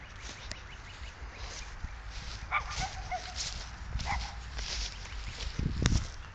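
A dog barks in short bursts and lets out whimpers, with footsteps and shuffling around it and a louder flurry near the end; no one speaks.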